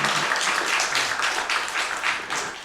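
Church congregation applauding during a Sunday worship service in Suwon, a steady wash of many hands clapping together that fills the space at an even level without a break.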